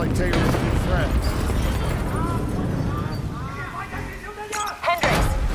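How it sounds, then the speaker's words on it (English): Explosions at a facility in the video game Call of Duty Black Ops 3: heavy rumbling booms and bursts layered under voices, with the loudest blasts early and a sharp pop near the end. "we have multiple explosions across the facility"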